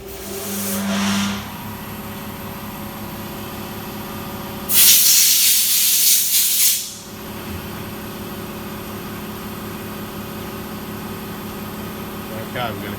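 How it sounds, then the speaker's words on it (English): Compressed air blasts loudly from a nozzle for about two seconds to clean diesel injector parts on a Toyota Prado 120 with the 1KD-FTV engine, set against steady workshop hum and a shorter hiss near the start. "I'm going to go use some compressed air, hopefully"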